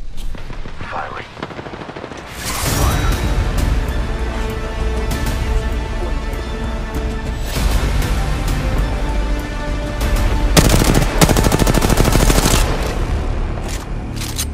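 Rapid automatic gunfire rattles loudly in Apex Legends, with dense bursts of shots, booms and a brief quieter lull before sustained firing resumes, a voice speaking over part of it.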